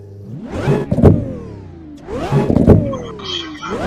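An SR20-swapped Toyota MR2 revs twice in close succession, each pull climbing sharply and then dropping back to idle, loud and close with no talk.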